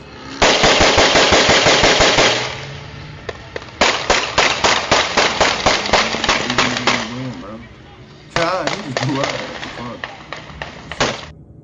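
Rapid bursts of automatic gunfire from a street shootout, loud and close: a long sustained volley, a pause, then several more extended strings of rapid shots with short gaps between them.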